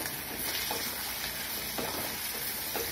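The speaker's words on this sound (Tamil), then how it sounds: "நல்லாவே எல்லாமே வதங்கட்டும்." Green chilies and tomatoes sautéing in a clay pot for a fish gravy, a soft continuous sizzle with a few faint stirring scrapes, fairly quiet.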